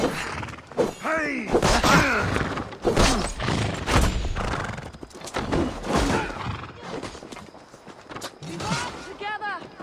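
Horses whinny and neigh repeatedly amid thudding hooves and clashing battle noise in the Assassin's Creed Valhalla siege of Paris, loud and busy, with game voices talking over parts of it.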